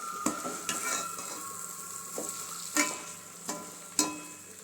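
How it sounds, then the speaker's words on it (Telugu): Ingredients for bagara rice frying in oil in a pan over the flame, a steady sizzle broken by several sharp clinks and scrapes of a spoon stirring against the metal, close and alone without talk. "ఇవి కూడా పూర్తిగా బాగా మగ్గిపోయే వరకు ఫ్రై చేసుకోవాలండి ఫ్లేమ్లోనే పెట్టుకోండి"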